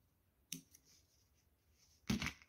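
Scissors snip crochet yarn twice, two crisp close cuts about a second and a half apart in an otherwise quiet room.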